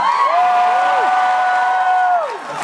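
A stand-up comedy audience cheers and whoops in a sustained burst of crowd noise, steady and loud across the whole stretch and easing slightly at the end.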